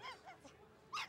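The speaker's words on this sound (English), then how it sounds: "Now, Shep's dog, Jake, who's missed him a lot" Short whimpering yips from a dog, a few high whiny cries spaced over about a second, the last one louder and closest, with no talk over them.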